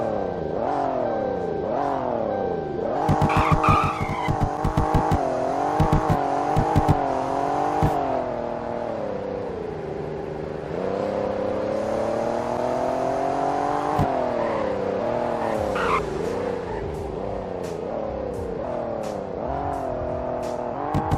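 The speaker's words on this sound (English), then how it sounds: "The next car that has new sounds in this update is the 2017 Alfa Romeo Giulia" The engine of a 2017 Alfa Romeo Giulia in a video game revs and accelerates repeatedly through gear changes, a loud, steady rising and falling drone with no talking.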